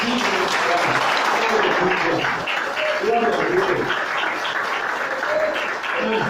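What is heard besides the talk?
congregation applauding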